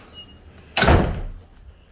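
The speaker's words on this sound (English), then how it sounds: "Close this door." A villa room door is pushed shut with a single close, loud thud and a short decaying rumble after a quiet moment.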